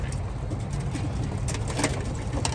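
Racing pigeons released outdoors at a race start: a dense flurry of wing flapping and fluttering with soft cooing, over a steady low rumble in the background.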